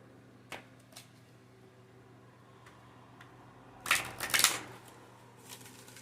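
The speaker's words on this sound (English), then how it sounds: "Let me shuffle real quick." A deck of tarot cards is shuffled in a quick riffling burst after a few quiet seconds of light handling taps, in a still, quiet room.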